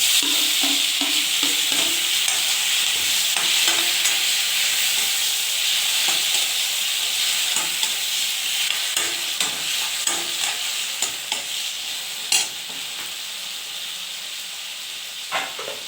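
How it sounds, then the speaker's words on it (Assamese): Tomato pieces frying in hot oil for an aubergine curry, a steady close sizzle and hiss throughout with occasional stirring clicks and spatters, no voices. "বিলাহীটো অলপমান ফ্ৰাই হ'ব লাগিব"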